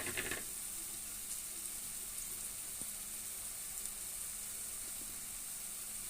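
Onion pieces fry steadily in a pan for a pesarattu curry, giving a soft, continuous sizzle with a faint hiss throughout and no voices.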